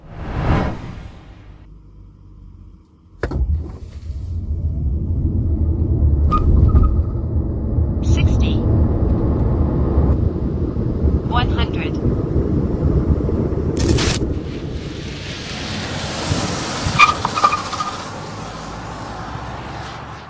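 A Chery Omoda electric car accelerates from 0 to 100 km/h, its low rumble swelling and holding steady for a long stretch, with tire and road noise and a brief whoosh near the end, almost no engine tone.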